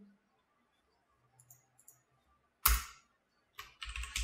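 Computer keyboard typing, with a few faint clicks followed by a louder clatter of keystrokes near the end, close and quiet.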